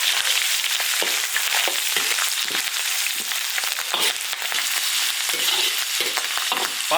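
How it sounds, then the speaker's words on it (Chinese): Cured pork stir-fries in a hot iron wok for a Sichuan dish, with a loud, continuous sizzle broken by repeated scraping strokes of a spatula, close up and with no voices. "腊肉下锅炒。"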